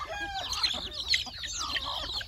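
Native country chickens on a farm cluck and chatter continuously at close range, several birds overlapping at a steady moderate level with no speech.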